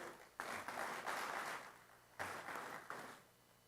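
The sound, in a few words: audience applause at investment summit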